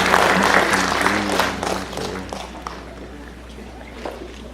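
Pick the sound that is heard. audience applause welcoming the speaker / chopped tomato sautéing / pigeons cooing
audience applause welcoming the speaker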